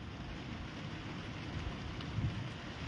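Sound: rain with thunder

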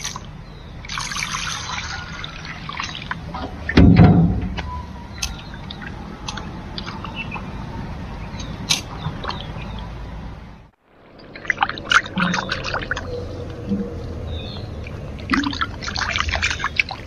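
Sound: water running while washing fish

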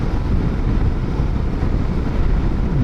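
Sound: strong crosswind

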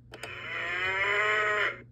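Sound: cow mooing sound from electronic game

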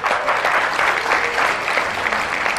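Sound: studio audience applause for the band

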